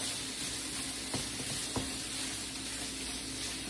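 Sweet potato hash with smoked sausage sizzles steadily in a hot frying pan, a dense, continuous hiss with a couple of faint clicks from stirring and no talking.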